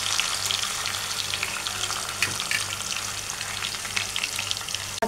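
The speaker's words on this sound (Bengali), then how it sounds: "মাছগুলো প্রায় ভাজা হয়ে গেছে" Whole fish pieces frying in hot oil with garlic and chili for a fish-bone chachchari, a dense continuous crackling sizzle close up, loud and unbroken, with no voices.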